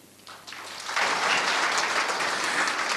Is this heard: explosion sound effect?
no